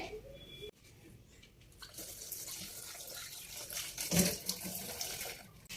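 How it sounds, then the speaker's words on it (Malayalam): Boiled soya chunks are rinsed in fresh water in a kitchen, with soft running water, splashing and dripping that swells briefly, quiet and close. "ഒന്നും കൂടി ഒരു വെള്ളത്തിലും കൂടി ഒന്ന് കഴുകിയെടുക്കുന്നുണ്ട്"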